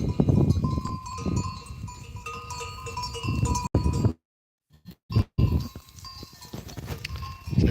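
Goats bleat and bells clank on a high mountain pasture, with a rumbling, breezy background broken by brief dropouts.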